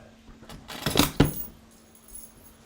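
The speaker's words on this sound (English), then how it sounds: "I don't know what I did with my keys." Keys jangle in a few quick bursts close by, the loudest shakes clustered in the middle, over a quiet room.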